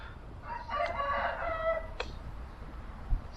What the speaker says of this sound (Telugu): ఆహా, కోడి సౌండ్.